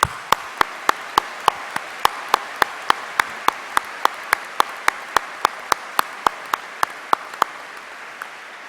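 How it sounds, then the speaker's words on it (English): A graduation audience at Edinburgh Napier University applauds its teaching staff: a broad, continuous crowd ovation with one close clapper beating out sharp, evenly spaced claps on top. "giving a huge round of applause for all the teaching staff at Edinburgh Napier University"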